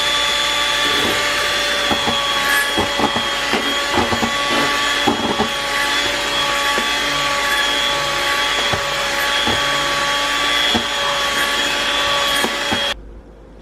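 An electric mixer whips eggs and sugar for a cake batter, a loud, close, steady motor whine with occasional knocks of the beaters against the bowl, cutting off abruptly at the end.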